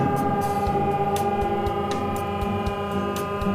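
A steady mechanical hum from the running electric motor of a ship crane's hydraulic pump, with a constant tonal drone and faint periodic ticks.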